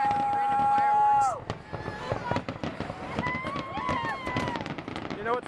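Fireworks exploding at a 4th of July celebration, a loud whistling launch followed by a dense run of crackling bursts and pops that keep going, with voices talking underneath.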